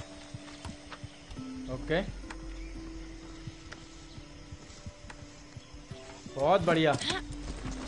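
Horse hooves clip-clopping while riding in the video game Far Cry 6, a steady soft rhythm under game sounds with brief whinny-like bursts and a short spoken remark.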